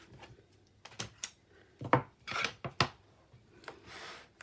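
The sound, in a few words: burnishing paper folds down with a bone folder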